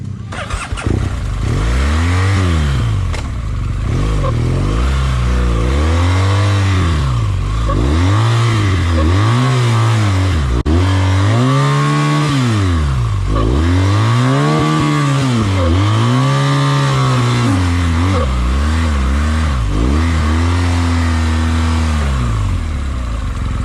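A Royal Enfield Himalayan motorcycle struggles through a muddy rut on an offroad trail, its engine loud and close, revving repeatedly in rising and falling surges for the whole stretch.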